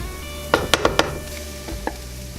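Chopped mushrooms are stirred into sautéing vegetables in a pan, giving several sharp scraping and clattering strokes against a soft sizzle, followed by a couple of lighter knocks.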